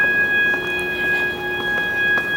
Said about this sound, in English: what you hear there is an emergency exit that is beeping